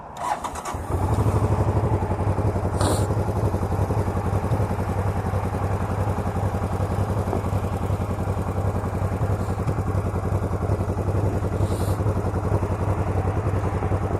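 A 1985 Honda VT500c bobber motorcycle engine starts and settles into a steady, rumbling idle, close by and running continuously with a few faint clicks.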